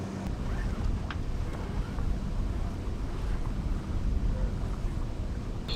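Steady wind rushes and buffets a sailboat heading straight into the wind out of a bay, a constant low roar with faint water wash underneath and no clear speech.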